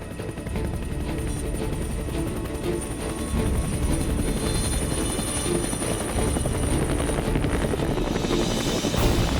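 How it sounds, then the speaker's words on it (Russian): Helicopter hovering low over the ground during a hunt in New Zealand, a loud continuous rotor chop and turbine whine close by, steady throughout with no talking. "Вертолет зависает в считанных метрах над землей."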